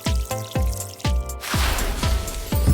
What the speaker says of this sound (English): Don't forget, we need to water them